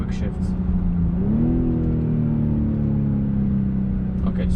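A 2020 BMW X6 M40i accelerates hard with a loud, steady engine drone that rises in pitch, dips briefly at a quick gear shift, then climbs again close to the microphone.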